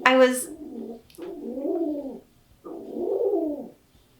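A pet pigeon coos close by in two long, throaty, rolling phrases, preceded by a brief voice at the start.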